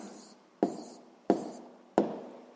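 A pen writes an answer on paper, three short sharp scratchy strokes spaced roughly evenly, close and clear with no talk.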